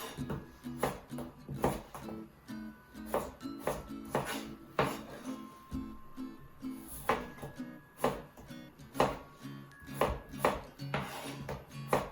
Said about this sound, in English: I'm going to start prepping my other vegetables